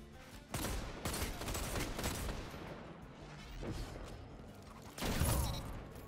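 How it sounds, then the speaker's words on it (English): Hand cannon gunfire in the Destiny video game, a few spaced loud shots with bursts near the start, around one and two seconds, and a heavier blast near five seconds over continuous game noise. "Yeah, I like this hand cannon a lot."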